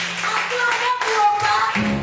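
Congregation clapping and acclaiming in a church service, a dense burst of handclaps with a few raised voices and tones mixed in, steady and fairly close for a couple of seconds.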